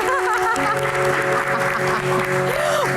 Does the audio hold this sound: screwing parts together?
no